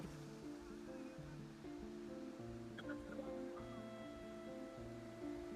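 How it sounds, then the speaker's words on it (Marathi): Rushing water at a waterfall near Verul in Chhatrapati Sambhajinagar, a steady broadband roar that stays constant throughout with no break. "छत्रपती संभाजीनगरचा वेरूळ जवळचा एकदम मस्त वॉटरफॉल आहे"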